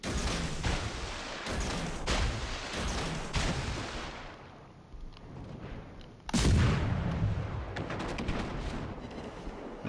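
Secondary guns on a warship firing in the naval game World of Warships: steady, layered booming salvos that keep going, with a heavier burst partway through.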